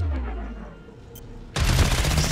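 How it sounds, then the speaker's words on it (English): Gunfire in the video game Cyberpunk begins with a low rumbling explosion tail, then a loud dense burst of rapid shots erupts abruptly partway through and continues to the end, with no talking. "Oh, that was a nice explosion."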